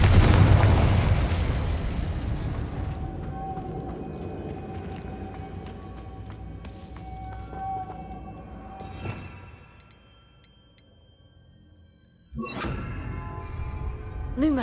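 A Confringo spell blast in the Hogwarts Legacy video game: a loud burst with a long rumbling decay, a sharp crack near the middle and another abrupt boom near the end, with no talking.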